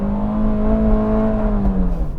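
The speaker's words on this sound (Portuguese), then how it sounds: "Escutaram como o motor é bem barulhento" A Fiat Grand Siena 1.4 Fire engine revs hard while accelerating from first gear, a loud, close, rising drone that holds steady and eases slightly toward the end.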